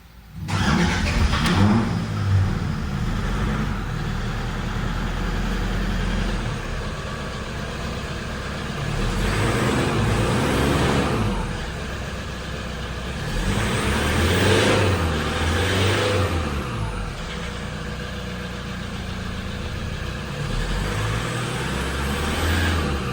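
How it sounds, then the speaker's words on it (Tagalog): Toyota Hilux diesel engine cranking hard and struggling to start after EGR cleaning and a fuel filter change, a loud, steady close-up engine drone that swells and revs in waves throughout. "Pagka nag-EGR cleaning, palit fuel filter, hard starting po talaga muna yan bago umandar mga boss"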